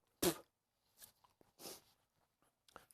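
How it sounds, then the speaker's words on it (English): A short, sharp sneeze-like burst up close, followed by a few quieter breathy sounds and soft shuffles. "little sneeze with the little saliva"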